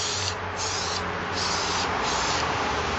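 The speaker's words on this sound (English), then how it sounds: "So I'm going to spray more on the bottom." Waterproofing spray hisses from an aerosol can onto a new backpack in a steady, close, continuous stream, with brief dips in the hiss as the nozzle is pressed and eased, with no talking.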